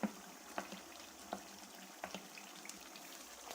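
Chicken liver with chopped green chillies frying in a pan, soft steady sizzle with a few sharp clicks and taps of a utensil against the pan, close and fairly quiet, no talking.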